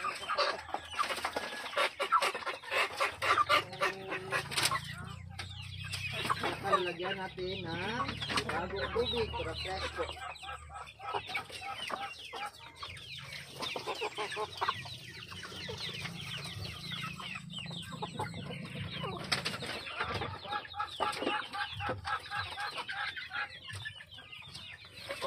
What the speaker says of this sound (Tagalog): ito na pong mga manok. Itong mga manok.